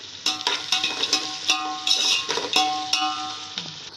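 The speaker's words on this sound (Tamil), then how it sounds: "பட்டை லவங்கெல்லாம் தாளிச்சிக்கலாம்" Cinnamon and cloves sizzling in hot oil while being tempered for Ambur biryani, with a steady crackle broken by repeated sharp metallic clinks of a ladle stirring in the pan, close and fairly loud.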